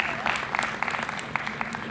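Applause from guests at a corporate dinner for the New Vision team, a steady patter of claps with voices mixed in underneath.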